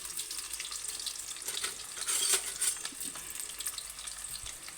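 Green chillies frying in a pan for a Telangana-style brinjal curry, a steady soft sizzle close by with a brief louder hiss partway through, no talk.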